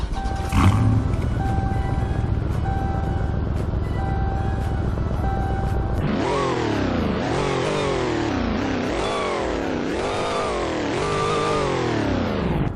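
An SFP Drag Dart trim car in a video game idles with a steady buzzing hum, then revs hard in a run of rising, roaring sweeps that climb and drop repeatedly, loud and close.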